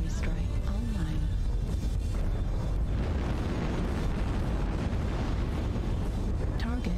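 Artillery strike explosions in the video game MechWarrior Online rumble as dense, continuous booming thunder under heavy ongoing noise, with a voice speaking over it.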